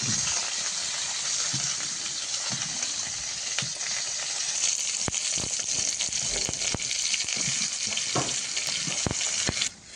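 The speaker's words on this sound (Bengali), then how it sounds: "ঝোল তরকারির জন্য তো বেগুনটা ভাজতে দিয়েছিলাম, তো বেগুনটা ভাজা হয়ে গেছে।" Eggplant pieces sizzle in hot oil in a home kitchen, a continuous close crackling fry with occasional sharp pops and utensil knocks, no talking.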